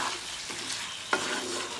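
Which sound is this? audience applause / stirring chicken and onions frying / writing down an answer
stirring chicken and onions frying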